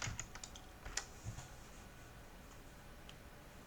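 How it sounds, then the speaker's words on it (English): Light typing on a computer keyboard, a scattered run of soft clicks and taps at a quiet level, close by, with no speech. "So we'll go to Google, we'll type in Rufus,"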